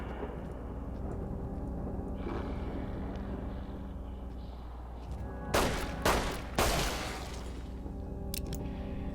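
Pistol gunfire in the video game Fallout New Vegas: a few sharp, loud shots in quick succession near the end, following a long stretch of low ambient game hum.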